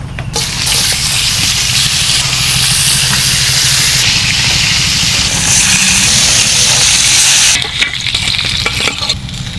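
Turmeric-and-salt-coated rohu fish fries in bubbling soybean oil, giving a loud, dense, continuous sizzle and crackle close by that shifts briefly near the end.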